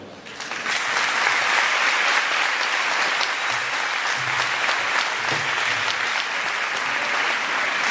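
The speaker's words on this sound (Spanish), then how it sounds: "Fuerte el aplauso para despedir al doctor Henry Chero Valdivieso" Applause for the speaker at an ICT and pedagogy conference in Barquisimeto, Venezuela, a dense sustained wash of clapping that swells in after a quiet start and stays loud to the end.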